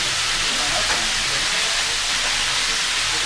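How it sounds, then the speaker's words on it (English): Snapping turtle meat browning in a frying pan gives a steady, close, unbroken sizzle and hiss with no talk. "The turtle's also browning right now"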